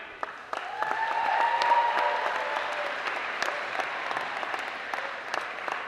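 A crowd at a homecoming pep rally claps steadily for a planning committee, the applause swelling then holding at a lively level with scattered cheers and no speech.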